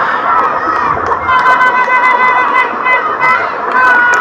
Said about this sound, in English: The crowd is loving it.